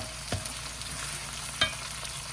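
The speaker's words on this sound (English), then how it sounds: "And then I'll start sauteing the meat that I'm gonna put in the rice." Seasoned meat sautéing over high heat for loaded fried rice, a steady close sizzle running throughout with a couple of sharp utensil clicks against the pan.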